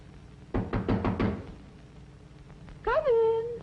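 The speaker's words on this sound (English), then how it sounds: "Hark! Who knocks?" Knocking on a door in a 1940 film melodrama: about five quick, firm raps close by, followed after a pause by a voice.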